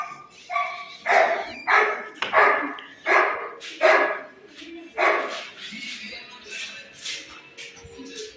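A dog barks repeatedly nearby, about eight or nine sharp barks in an uneven rhythm, fading into quieter yips at the end.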